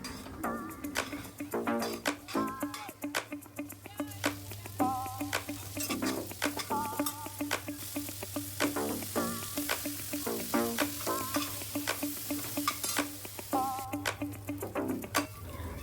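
Ginger, green chilies, garlic, curry leaves and coriander fry and sizzle in a pan, with a steady hiss broken by the scrape and clink of a spoon stirring at close range.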